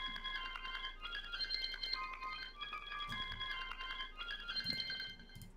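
A beat melody made in FL Studio, with the Effectrix reverse preset applied in places, plays as a bright, bell-like synth line with stuttering, chopped notes and light drums underneath, moderately quiet with no talking.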